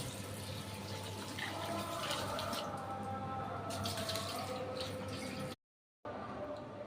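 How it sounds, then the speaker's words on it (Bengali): Rice being washed in water for chicken biryani, a steady, low, continuous wash of running and sloshing water that briefly cuts out near the end. "প্রথমে আমি চালটা ভালো করে ধুয়ে 45 মিনিট ভিজিয়ে রাখব"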